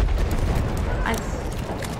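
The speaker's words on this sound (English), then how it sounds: "As soon as I spawn in, all I hear is explosions." Explosions in the video game Battlefield 1, a dense continuous barrage of booming blasts and gunfire rumbling loudly throughout, with a brighter burst near the middle.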